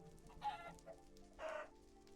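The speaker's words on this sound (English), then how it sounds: "Got some chickens." Two distinct bursts of Minecraft chickens clucking in the video game, the second longer and fuller, close and moderately loud with brief softer clucks between and no talking.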